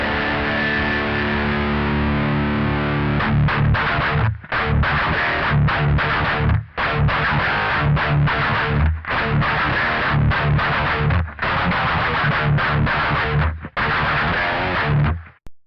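An electric guitar plays through a free amp simulator plugin turned fully up, giving heavily distorted, loud chords. The chords are struck in bursts, with short breaks between them, over about fifteen seconds.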